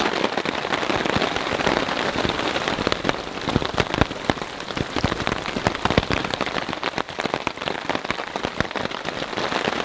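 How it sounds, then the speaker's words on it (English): Steady, heavy storm rain patters densely on forest leaves and surfaces, with scattered louder drips throughout. "So much for the rain slacking off."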